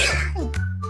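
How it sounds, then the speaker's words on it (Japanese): A streamer lets out one sudden, sharp sneeze, a close burst followed by brief breathy vocal sounds. "くしゃみでしょ。"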